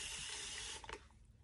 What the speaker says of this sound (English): I am gonna spray the hair now so y'all can see it wet.